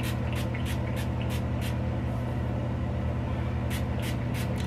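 Several quick spritzes of leave-in conditioner from a spray bottle onto hair in two bursts, close by, over a steady low background hum.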